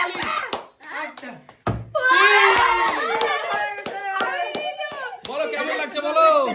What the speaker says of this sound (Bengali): জোরে হাততালি দাও, জোরে হাততালি দাও।